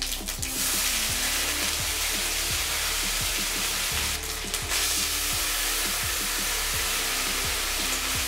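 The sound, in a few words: cumin seeds and ginger paste sizzling in hot mustard oil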